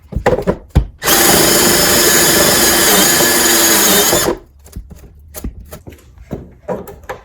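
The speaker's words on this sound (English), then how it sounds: "So now I got the hole drilled through." A power drill bores a hole through an Enphase solar combiner box enclosure in one loud, steady whine lasting about three seconds. Sharp handling clatter and taps come just before and after it, with no talk.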